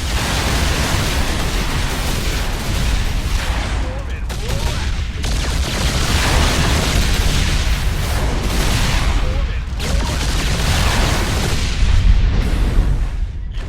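Terran Viking fighters in StarCraft 2 launch missile volleys at battlecruisers, a dense, loud barrage of booms and rapid blasts with almost no gaps, while someone narrates over the battle.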